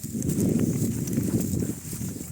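A working horse's hooves clip-clop steadily on a farm, with close, continuous footfalls over a dense low rumble and no talk.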